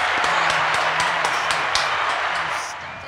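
A group of people applauding, with dense, steady clapping heard up close that carries on throughout and fades slightly at the end.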